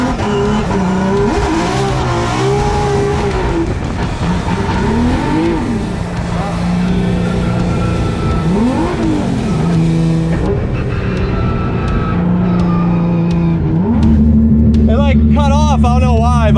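Nissan 350Z drift car at Irwindale track, engine loud and close, revving up and down in repeated sweeps with tire noise, while people talk over it.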